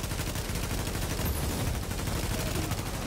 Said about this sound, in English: I'm shooting him in the back.